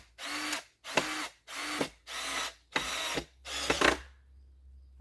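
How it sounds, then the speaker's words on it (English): A power drill drives a screw into a wooden garden bed frame in six loud, even bursts of about half a second each, separated by short pauses, with no talking. "Now let's get the screw in."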